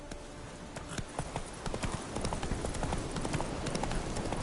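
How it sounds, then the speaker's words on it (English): Roach, a horse in the video game The Witcher 3, gallops with a steady, rapid clip-clop of hooves, fairly close and continuous over a low ambient bed. "Run, Roach"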